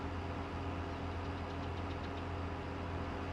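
A tractor engine drones steadily in a farming video game set on an Australian station in New South Wales, a constant low rumble with a faint knocking texture, loud and unbroken, with no voice.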